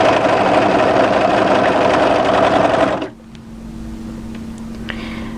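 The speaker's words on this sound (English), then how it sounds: "So matching that side seam, we're going to overlock up." An overlocker stitches up the side seam of a draped midi dress, running loud and steady with a dense mechanical whir for about three seconds, then stopping abruptly and leaving a low hum with a few small clicks.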